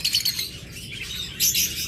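Pet birds in a breeding setup chirp and tweet in quick, bright bursts, a busy close-up chatter that rises again near the end.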